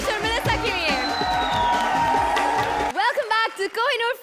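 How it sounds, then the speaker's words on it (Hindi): Studio audience at a Hindi comedy show clapping and cheering in a dense burst, with whoops and crowd noise, before a voice speaks alone near the end. "जोरदार तालियां हो जाए कृष्णा, सुदेश और मेलिसा के लिए"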